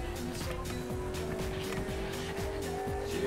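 A car driving in a video game, with a steady engine drone and repeated gear-shift revs under faint game sounds, loud and continuous.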